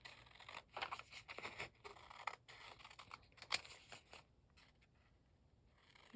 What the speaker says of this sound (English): I'm just going to hand cut this off